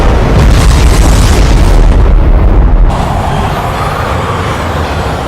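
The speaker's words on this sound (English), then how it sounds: "the drone operator drops a bomb above them" A drone-dropped bomb in a film detonates with a loud, sustained booming roar that fills the low end for about three seconds, then settles into a dense rumbling aftermath.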